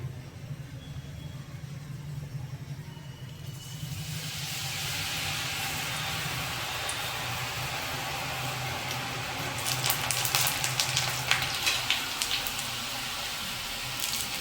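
Batter for palak sev, a spinach and gram-flour snack, pressed into hot oil sets off a broad steady hiss that swells partway through and stays loud, with brief crackling bursts near the end.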